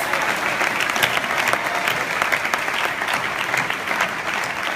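Sustained applause from a large audience at an awards ceremony, even and continuous, with scattered sharper claps standing out near the front.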